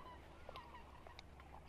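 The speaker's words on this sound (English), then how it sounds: "There's a couple ducks out here." Ducks on a Florida marsh during hunting season give a few faint, scattered honking calls at a distance, with no talk over them.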